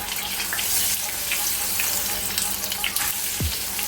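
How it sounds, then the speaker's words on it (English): Jamaican saltfish fritters frying in very hot oil give a dense, continuous crackling sizzle close up, with occasional sharper pops throughout. "So fry it on each side until you know it's cooked through, so that it is properly done"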